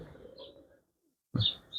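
Giribaz pigeons at a pigeon farm in Arabpur, Jessore, give a low coo, then a short silent gap and a louder, closer burst of cooing with a faint chirp at the end.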